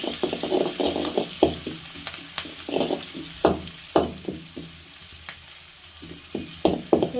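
Small onions (shallots) frying in hot oil for a beef curry, a steady crackling sizzle under frequent clattering stirs of a spoon in the pan, close and busy throughout with no voices.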